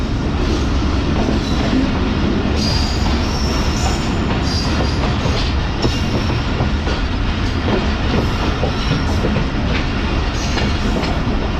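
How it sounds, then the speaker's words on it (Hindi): A passenger train pulls out of Sahiwal railway station with a steady loud rumble, rhythmic wheel clatter and occasional high squeals from the rails, continuous and close with no voices. "हमारी ट्रेन निकल रही है साहिवाल रेलवे स्टेशन से"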